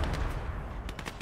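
Gunfire crackles in Call to Arms Gates of Hell: Ostfront, a short burst of several quick, moderately loud shots over low battlefield rumble.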